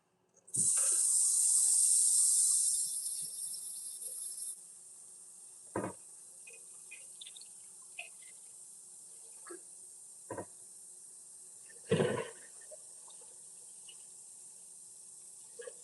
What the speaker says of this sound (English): Warm water and put it on here so I can get all that stuff off.